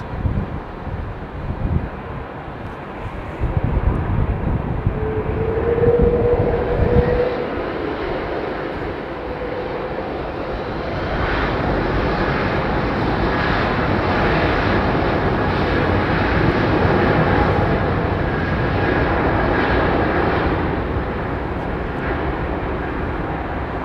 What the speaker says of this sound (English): 777-200, one of BA's oldest 777's just gone out there.